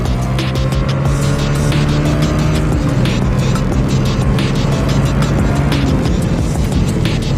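A motorbike is ridden hard through a crowded public spot, its engine roaring loud and close with a constant strained drone and rattling texture throughout.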